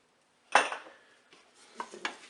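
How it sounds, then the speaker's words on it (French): A spoon stirring melting chocolate and hazelnut oil in the old metal bowl of a Cookeo cooker, one sharp clink followed by a few lighter scrapes and taps, close and brief with no speech. "Donc mélangez bien au fur et à mesure, sinon ça a tendance à accrocher un petit peu."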